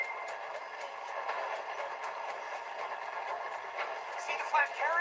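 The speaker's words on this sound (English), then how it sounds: "the train is slowing down to go through the station" A train in Red Dead Redemption 2 rumbles and clatters steadily as it slows, a continuous mid-pitched rolling noise with faint squeals near the end, with voices talking over it.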